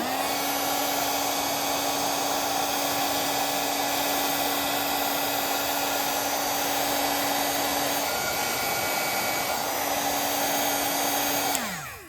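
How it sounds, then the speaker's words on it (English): A heat gun blows steadily over embossing powder on a card, a loud constant hair-dryer-like whine and rush lasting about twelve seconds, then cutting off at the end, with no voices. "And you run your heat gun over it."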